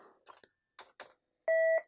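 A Merlin intercom phone answers a call on speaker and beeps: a few soft clicks and taps, then one clear, steady electronic tone lasting about a third of a second in a quiet room.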